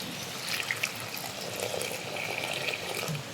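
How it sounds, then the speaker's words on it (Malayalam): Tamarind water is poured into a simmering curry of wild yam stems and prawns, making a soft, continuous trickling splash that stays fairly faint throughout. "ഇതിലേക്ക് കുറച്ച് പുളിവെള്ളം ഒഴിച്ച് കൊടുക്കുന്നുണ്ട്."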